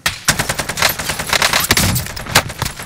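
Rapid bursts of gunfire in Call of Duty Warzone, set in Verdansk, crackle loud and dense for about three seconds, with overlapping shots and no talk.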